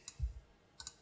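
A few soft clicks from a computer keyboard's Alt key in a video editor, a quick pair of light taps at the start and another close pair near the end, with dull low thumps in between.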